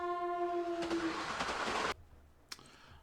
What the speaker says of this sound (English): Across the way, a train rumbles by.